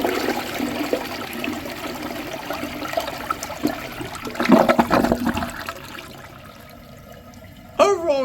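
A Crane Atlas Elite open-rim toilet flushes, with rushing water in the bowl rinse that swells, then thins to a quieter trickle before a brief sharp noise at the end.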